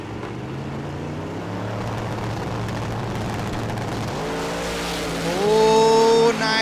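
Drag cars in the small-tire class make a pass at the Street Car Super Nationals on the Las Vegas Motor Speedway strip. A steady engine roar builds and then sweeps sharply upward in pitch, louder toward the end.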